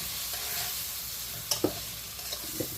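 Prawns and bottle gourd stir-fry in a pan, giving a steady, moderate sizzle with a couple of brief scraping clicks from the spatula.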